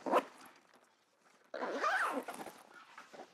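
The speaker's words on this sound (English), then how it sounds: "Zip that up." A Manfrotto Advanced Gear Backpack III camera bag being zipped shut, a quick zip pull at the start followed after a pause by a longer, louder run of the zipper, close and clear with no talk.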